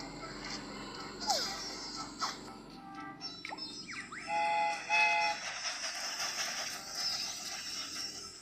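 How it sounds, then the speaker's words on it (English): A cartoon toy train sets off, with whistle-like tones and rattling rail noise moving over a busy background for several seconds, mixed with faint music-like tones. "The train is about to start."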